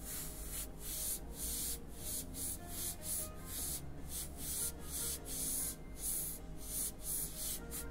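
An airbrush sprays paint onto a Joker design on a T-shirt, giving a close, steady hiss broken into many short bursts as the trigger is pulsed, with no talking.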